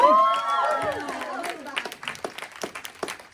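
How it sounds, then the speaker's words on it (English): Scattered clapping from a panel audience at a games convention, starting under lingering talk and tonal voices, then thinning to separate, uneven claps near the end. "Oh, thank you for clapping."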